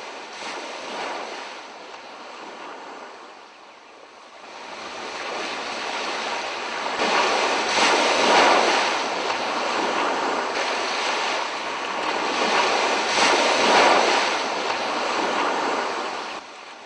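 Ocean waves roll onto the seashore at Saadani National Park, a broad wash of surf that swells and fades in several surges, with wind buffeting the microphone.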